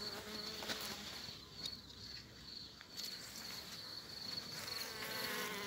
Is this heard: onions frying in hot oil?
no